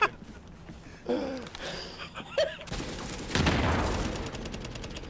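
Bursts of rapid AK rifle fire crackle in The Division's shooter combat, with sharp volleys rising to dense, sustained shooting, while players talk over the gunfire.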